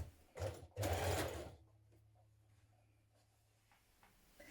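Sewing machine stitching a trouser seam with a 1.5 cm allowance, in two short bursts of loud, busy running about a second apiece, then a faint low hum and quiet room noise.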